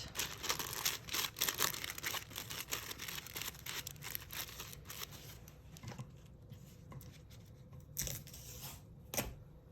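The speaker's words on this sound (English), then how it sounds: "take your wax paper and fold it, trying to make a little pocket." Wax paper is folded by hand into a small pocket, a close series of sharp crinkles and crumpling rustles coming in uneven bursts, with brief pauses between handlings.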